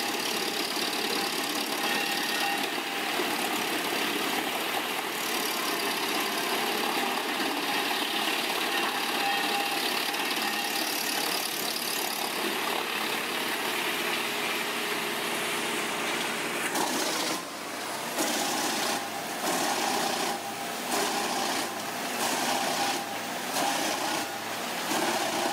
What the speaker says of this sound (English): This powerhouse of a machine seamlessly transforms wooden tree trunks into a delectable assortment of processed wood chips